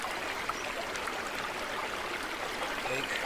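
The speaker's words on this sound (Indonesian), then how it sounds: "Ini air mengalir dari pegunungan." Mountain water flowing down a rocky, steep-cliffed valley in dry, barren land, a steady broadband rush of moving water that stays even and close throughout.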